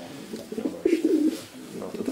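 Pigeons coo softly and repeatedly at close range, a low throaty burbling with a brief pause midway, with no talk over it.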